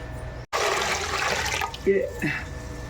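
Water gushes into a pot being set to boil for rice-flour vadiyalu, a close, loud rushing pour lasting over a second after a brief cut, followed by a voice speaking.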